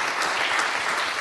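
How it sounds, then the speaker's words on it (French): Audience applause fills the room after a lecture on territorial energy policy, a steady, dense patter of many hands clapping without pause. "Je crois que vous pouvez le remercier par des applaudissements."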